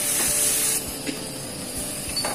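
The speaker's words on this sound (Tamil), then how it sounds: "போட்டு நல்லா எல்லாம் வதக்கிக்குவோம்." Tomatoes sauté in a pan with asafoetida, chili and sambar powder for sambar vadai, making a steady, close hissing sizzle that runs unbroken with no talk.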